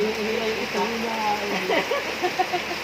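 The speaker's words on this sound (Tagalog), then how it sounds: "Ay, lakas po ng ulan." Steady, dense heavy rain hisses in the background while people talk over it close by, at a checkpoint in Lobo, Batangas.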